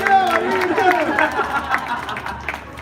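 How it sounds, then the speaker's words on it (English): Audience at a culinary demo during the Disney Food & Wine Festival breaks into scattered applause and cheers, with a voice talking over the clapping throughout. "A round of applause."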